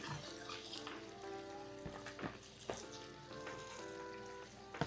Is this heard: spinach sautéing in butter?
yes